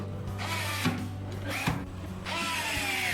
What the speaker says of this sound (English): Fasten the outside screws.